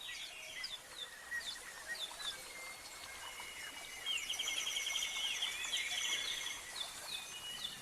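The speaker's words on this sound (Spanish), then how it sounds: "arropado por el sonido del canto de los pájaros" Birdsong filling the grotto of an Austrian palace, bright chirps and quick twittering calls overlapping, sparse at first then growing busier and louder midway, over a soft background hush.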